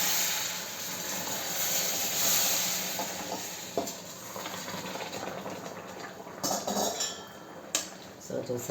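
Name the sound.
stirring ragi flour with jaggery water in pan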